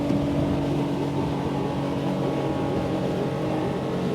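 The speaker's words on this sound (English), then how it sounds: "Let's go for a flat out starboard turn." Windy SR28 CC sportsboat engine roaring at full throttle through a flat-out starboard turn at sea, a loud, steady drone with hull and water rush, no talk.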